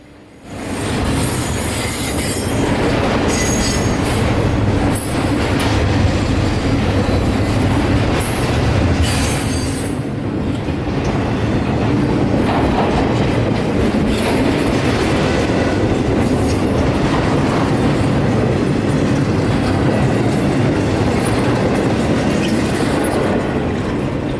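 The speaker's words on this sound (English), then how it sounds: "Q045 was first to arrive, nightly stacks and UPS traffic from Jacksonville Intermodal Ramp to Tampa" Q045, a night intermodal stack train carrying UPS traffic from Jacksonville to Tampa, roars steadily past Lakeland Junction, Florida. The rumble is close and loud for the whole stretch, with wheels squealing and clattering over the rails.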